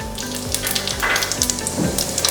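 Ginger garlic paste frying with whole spices in hot oil for chicken biryani, a steady close sizzle with crackling bursts and occasional stirring, loud and continuous.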